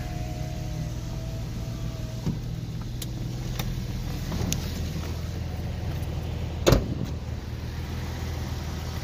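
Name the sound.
1998 Porsche Boxster convertible top closing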